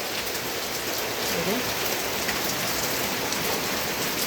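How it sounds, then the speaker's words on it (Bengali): Heavy rain pours steadily in Khagrachari, a dense, even hiss of drops drumming on surfaces that fills the whole stretch at constant loudness, without pause or voices. "এই দেখেন বন্ধুরা, প্রচুর বৃষ্টি।"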